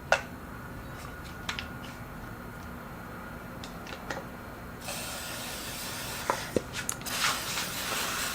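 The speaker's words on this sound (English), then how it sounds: "let's spray a bunch of this WD-40 in here" Short bursts of WD-40 aerosol spray hiss, then a longer sustained spray near the end, with small clicks and taps scattered throughout.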